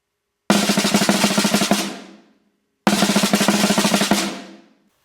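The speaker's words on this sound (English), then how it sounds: "First thing I'd like to run through is the 2/3s or 2 3-beat rolls." Two short bursts of rapid snare drum three-beat rolls in a slow march pattern, each about a second and a half, separated by a pause, crisp and close.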